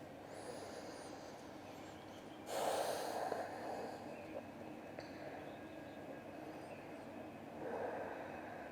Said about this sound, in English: Let's take a few deep breaths here